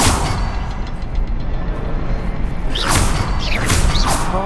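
A Confringo spell blast in the Hogwarts Legacy video game: a dense rumbling burst with crashing debris, then sharp whooshing streaks near the end, loud and close with no talking.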